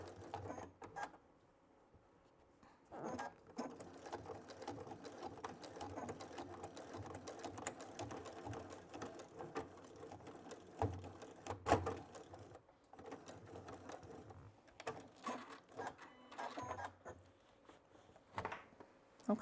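A Baby Lock sashiko quilting machine stitches a French seam on a tote bag in short bursts of rapid mechanical clatter, with brief stops and a few back-stitch runs between.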